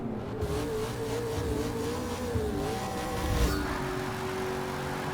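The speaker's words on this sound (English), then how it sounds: "This is pretty much a big fat muscle car." Holden Monaro muscle car in the racing game Forza Motorsport 6, its engine droning and revving with a rising and falling pitch, fairly loud and steady with no talk.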